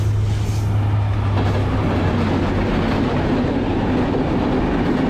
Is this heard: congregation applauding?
no